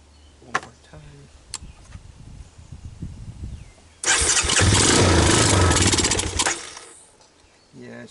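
An ATV engine is cranked over with a few short attempts, then catches and roars loudly for a few seconds before dying back down, its carburetor jammed and starving it of fuel.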